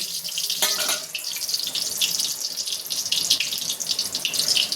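Besan-coated kakrol (spiny gourd), boiled first, frying in hot oil, giving a steady loud hiss and crackle that runs throughout with a sharp burst of spattering early on.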